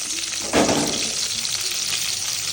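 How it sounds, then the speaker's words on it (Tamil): Okra hits hot sesame oil in a pan with a sudden burst of sizzle, settling into a steady, loud frying hiss. "இப்போ வெண்டைக்காவை இதில் போட்டு வறுத்துடலாம்"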